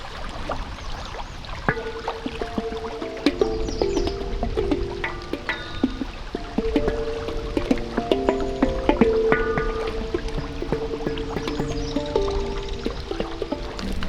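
Metallic handpan notes ring out in overlapping tones, with a watery, sloshing wobble to the sound as it is played continuously while full of water.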